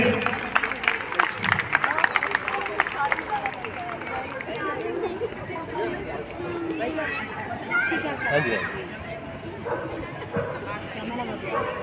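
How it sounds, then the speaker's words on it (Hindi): Scattered clapping from a crowd gathered at an Independence Day celebration in a residential complex in Indirapuram, brisk at first then thinning out, with people talking and murmuring underneath. "तालियों के साथ उनका स्वागत करें"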